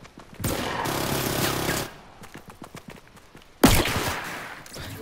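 A player fires a gun in a shooter game: a sustained burst of rapid automatic fire, then scattered single shots and clicks, and another loud burst opening near the end.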